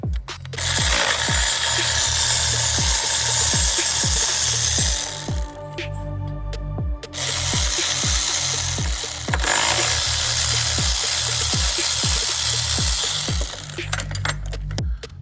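Power tool with a rapid ratcheting, rattling whir undoing three 10mm bolts on a car's drive shaft hub area, loud and close, running in long bursts with a brief pause between them.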